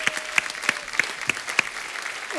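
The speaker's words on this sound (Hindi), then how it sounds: "जोरदार तालियां हमारे भालू के लिए" A studio audience at a Hindi comedy talk show applauds steadily. Dense clapping fills the clip, with a few sharper hand claps close to the microphone cutting through at regular intervals.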